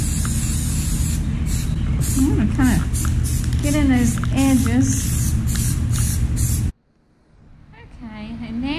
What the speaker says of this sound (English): Take our purple paint and spray over our letter P.